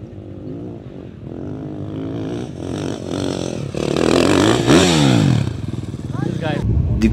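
Motorcycles ride across the desert with engines revving and whining, the pitch rising and sweeping as one bike passes close, loud and roaring, while people talk over the noise.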